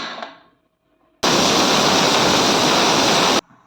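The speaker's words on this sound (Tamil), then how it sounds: "ஒரு சவுண்ட் வந்துருச்சு அடுப்பை ஆஃப் பண்ணிடலாம் கேஸ் ரிலீஸ் ஆயிடுச்சு" A sudden loud, continuous hiss of steam rushing out of a pressure cooker weight under pressure, lasting about two seconds before cutting off abruptly, following a brief quiet clink.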